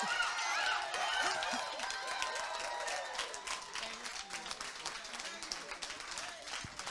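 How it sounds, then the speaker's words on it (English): Audience applauding after a talk on mental health: a dense patter of many hands clapping, loudest at the start and thinning gradually toward the end. "Give her another round of applause."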